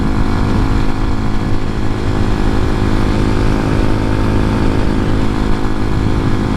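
An X-Pro Hawk DLX 250 motorcycle cruising near 7,000 RPM at about 52 mph, a loud, steady, buzzing engine drone with rushing wind, unbroken and close, no speech over it.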